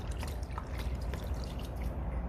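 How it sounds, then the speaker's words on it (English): Engine flush liquid is poured into a car engine's filler opening, a faint, uneven trickle and drip heard up close with no voices. "So the flush goes in."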